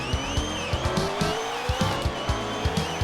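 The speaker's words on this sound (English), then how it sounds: "Jesus, the car is so fucking loud." A loud car engine roars steadily with rising revs and repeated low rhythmic pulses, tires squealing faintly over it, close and alone without talk.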